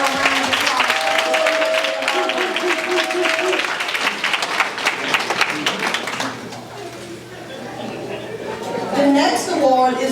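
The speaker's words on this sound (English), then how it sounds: "Let's give Desire a round of applause." An audience at an award ceremony applauds for several seconds in a dense, steady burst of clapping with voices mixed in, then tapers off as talking continues.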